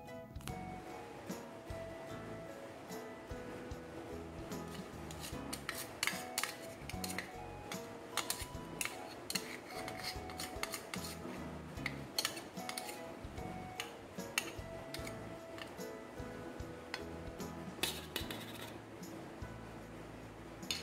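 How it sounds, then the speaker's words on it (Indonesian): A spoon stirring a sauce of sugar, salt, sweet soy sauce and pepper in a pan for fried mackerel, with quiet repeated clicking and scraping taps in an irregular rhythm, faint and close. "Lalu aduk sampai semua tercampur merata dan tunggu sampai mengental dulu ya"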